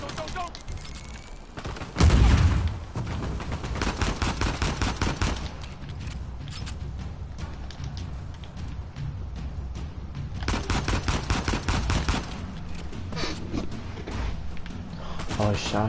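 Rapid bursts of gunfire from the video game Uncharted 4 rattle on and off, with a loud heavy blast near the start and dense volleys later, while someone talks over the action.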